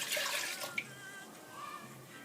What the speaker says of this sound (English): I'm gonna add 1 cup milk